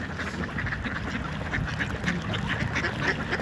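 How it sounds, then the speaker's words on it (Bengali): Ducks quacking at a pond's edge at Clepington as people feed them, a busy near chorus of repeated overlapping quacks over steady outdoor background noise. "এই হাঁসগুলো এখন খেতে এসছে।"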